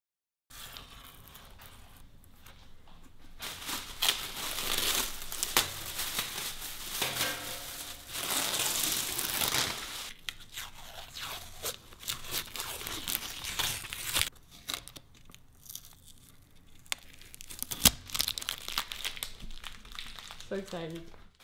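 Masking tape being peeled off freshly sprayed car parts, a long run of crinkling, tearing and crumpling noises with bursts and pauses, close and fairly loud, with a few sharper snaps near the end.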